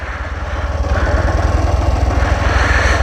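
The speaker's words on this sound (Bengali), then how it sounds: "বাইক স্টার্ট দেওয়ার পরে সকাল সকাল একটু" A motorcycle engine idles while warming up after starting on a foggy winter village morning, a close, loud and steady rhythmic putter with no pauses.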